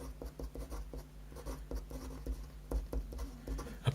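A word handwritten during a medical lecture, close soft scratchy pen strokes in quick irregular taps and scrapes for a few seconds, with no talk.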